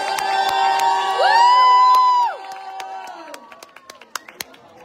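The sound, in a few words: crowd cheering and applauding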